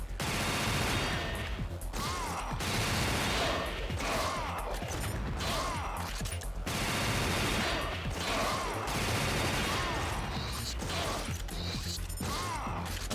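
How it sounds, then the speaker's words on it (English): A heavy belt-fed machine gun with an attached grenade launcher fires continuously in the light gun video game Ghost Squad, a dense, harsh mechanical rattle with short pauses between long bursts. "Now we're switching out to like a heavy belt-fed machine gun that also has a grenade launcher."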